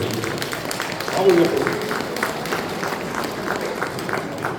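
An audience at a sci-fi and manga convention talk in Romorantin claps steadily for a guest, a continuous spread of applause that swells briefly and carries on under a speaking voice.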